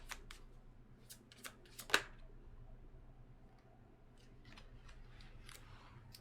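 A tarot card slides from the deck with a few crisp, sharp papery snaps and a louder flick near the middle, close and quiet in an otherwise still room with no talking.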